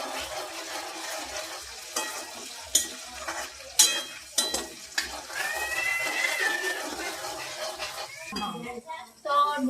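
Tomatoes, onions and chillies being stirred as they fry in a pan, with a steady sizzle broken by scraping, clinking stirs and a few sharp knocks, some voices in the background.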